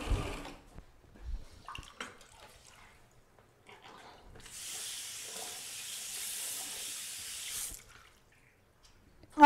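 A kitchen tap runs water into a sink to rinse washi tape, a steady hissing stream for several seconds after a few quiet clicks and small handling sounds, then stopping.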